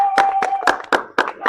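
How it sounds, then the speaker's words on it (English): Rhythmic clapping for a student at a talk in an orphanage: a quick series of about seven close, crisp hand claps in steady succession, with a faint steady tone underneath. "Clap for him."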